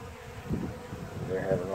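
Honeybees crowd an open feeder outdoors in warm weather, giving a steady close buzzing drone that swells and thickens toward the end, with no talk over it.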